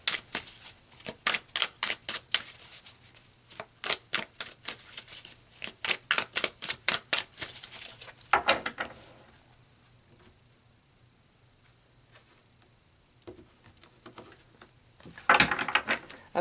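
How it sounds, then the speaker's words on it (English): Tarot cards shuffled in a rapid series of sharp riffling snaps for several seconds, then quieter rustling and a final burst of card handling, close and alone. "So let's pull some more cards"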